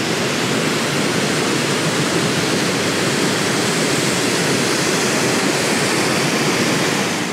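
A swollen river in West Yorkshire rushes powerfully past, a loud, steady, broadband roar of fast water that continues unbroken throughout, close and with no talk.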